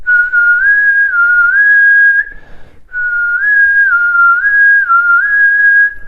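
A person whistles loudly and up close, a sustained tone that slides gently up and down between notes in two long phrases with a short pause between them.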